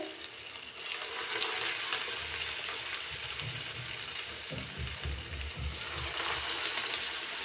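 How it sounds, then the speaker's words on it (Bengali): Cabbage pakoras frying in hot oil, a steady close crackling sizzle with low bubbling that continues evenly throughout without talk. "তেল গরম হয়ে গেছে এখন এখানে একটা একটা করে পাকুড়াগুলো দিয়ে দিব"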